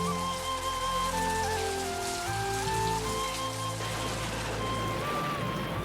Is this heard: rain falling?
yes